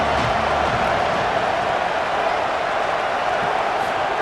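Steady roar of a stadium crowd cheering during a third-down play in a CPU-simulated college football video game, Colorado Buffaloes against Georgia Tech, a dense continuous wash of noise with no distinct voices.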